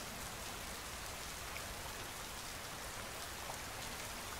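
Steady rain pouring down, an even, dense hiss of drops on surfaces with no pauses, fairly quiet and unchanging throughout.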